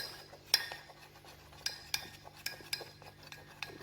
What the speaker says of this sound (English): You have to stir a little bit, so it has this weird texture until it really becomes again a bit more fluid